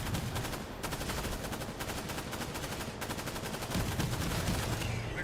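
Rapid bursts of video-game gunfire, likely automatic fire, crackle continuously and loudly through the whole stretch, with a dense rattling rhythm that barely lets up.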